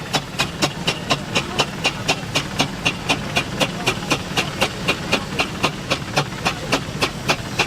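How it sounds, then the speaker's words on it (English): An extremely well presented 8 quarter steamroller arriving at a steam rally, with a loud, steady rhythmic chuff of sharp exhaust beats repeating about twice per second over a low engine rumble, continuing throughout with no talk. "So the first engine that's coming in is an extremely well presented 8 quarter steamroller."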